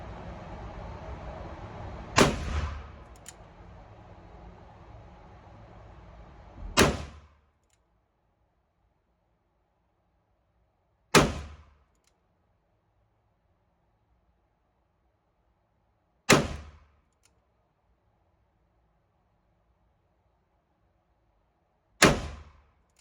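Five sharp, loud revolver shots ring out at an outdoor gun range, each a few seconds apart with a quick decaying echo, fired from a seven-shot S&W 686 Mountain Gun after a brief stretch of background noise.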